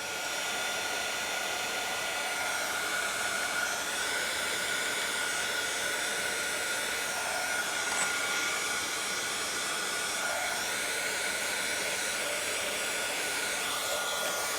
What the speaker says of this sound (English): bringing in my heat tool here